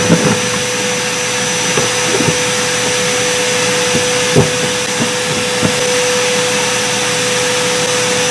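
A vacuum cleaner drones steadily and close by, with a few scattered knocks and rattles as it pulls debris out of the air-conditioning condenser vents on a 1992 Saab Turbo that has sat neglected in a tree row.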